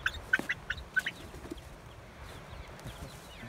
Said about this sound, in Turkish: Bu horoz.